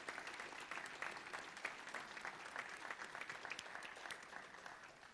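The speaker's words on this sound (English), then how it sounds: "So a nice round of applause for those booster officers." Quiet applause from a high school sports banquet crowd honors the booster officers, with distinct hand claps scattered through a continuous patter that stays steady before tapering slightly.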